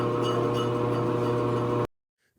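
An AMMCO brake lathe lightly cutting a brake rotor: a steady machine drone with a faint scraping, warbling, shearing texture runs for under two seconds, then cuts off abruptly into silence.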